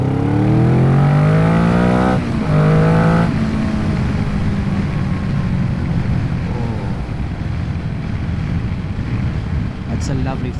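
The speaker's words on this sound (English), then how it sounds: "The level of acceleration on this bike is absolutely savage." Kawasaki Vulcan S motorcycle accelerating hard, its engine note climbing in pitch over the first few seconds, then settling into a steady roar mixed with loud wind and road noise, recorded close on the bike.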